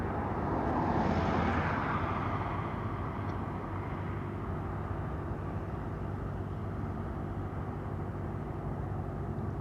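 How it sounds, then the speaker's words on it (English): An Asiana Airlines jet, registration HL8308, departs Heathrow with a loud, steady, broad engine roar that swells early and then holds as a continuous rumble. "Next one is Hotel Lima 8308 returning home to Seoul as Asiana flight"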